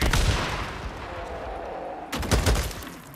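Grenade in the game Days Gone, heard as a dense burst of booming cracks that fades and then erupts again in a second loud blast near the end, with no talk.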